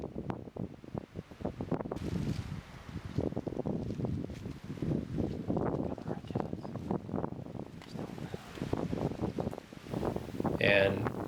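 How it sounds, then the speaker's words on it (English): Strong wind buffets the microphone in continuous gusty roars, with rustling and low rumbling throughout, loud and close. "it was super windy"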